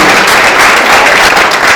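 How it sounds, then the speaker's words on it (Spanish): A church congregation applauding together for the King of Kings during a sermon, dense loud clapping that fills the space without a break and then cuts off abruptly. "Pues dale palmas al Rey de Reyes."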